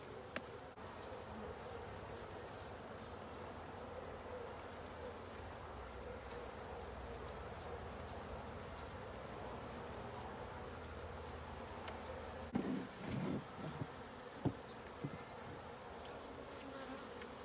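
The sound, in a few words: honey bees buzzing around a hive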